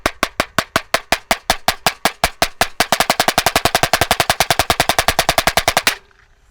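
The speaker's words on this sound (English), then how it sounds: "The drum is loud out here." RCP hybrid snare drum struck hard outdoors in a large park, a steady run of sharp, loud hits that speeds into a rapid, even roll before stopping abruptly with a short ring.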